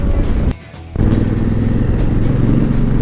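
Several motorcycles, among them a Royal Enfield Himalayan, a BMW GS, a Royal Enfield Thunderbird and a Honda Africa Twin, idle together at a trailhead near Dabbaguli forest, a loud steady engine rumble broken by a brief dip in level.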